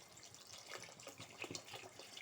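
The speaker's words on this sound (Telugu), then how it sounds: "ఇంకొన్ని వాటర్ వేసుకుందాం." Water poured into a tamarind mixed-vegetable curry in a pot, a soft, steady, faint stream with small splashes and no talk.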